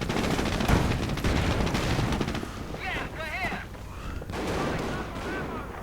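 Rapid gunfire and bursts crackle through a video game battle in which grenadiers are under attack from several directions. Dense overlapping shots roll on continuously while a commentator talks over the combat.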